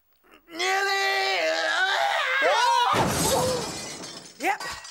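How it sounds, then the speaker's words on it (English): A long, wavering shriek rises and falls before a loud clattering crash as someone tumbles down a ladder, followed by a few quick, yelping cries. "Yep, the crashing and the shrieking."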